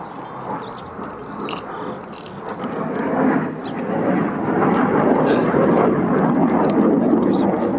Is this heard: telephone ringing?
no